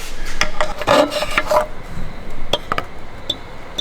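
A screwdriver scrapes and pries against a car's flex plate, making gritty metallic rubbing for the first second and a half. Sparse light clicks and ticks follow, all close up.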